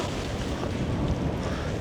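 Strong sea wind batters the microphone on a coast of northern Tsushima, a dense, continuous roar with no voices.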